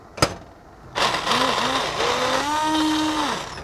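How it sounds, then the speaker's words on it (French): A kitchen blender purees cooked corn velouté soup, starting after a sharp knock and running as a loud continuous whir whose pitch rises and glides as the motor settles. "on va prendre notre mixeur pour pouvoir le blender"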